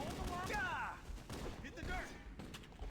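Assault rifle fire in the Halo video game crackles in short bursts, quiet and somewhat distant, mixed with faint voice-like game sounds.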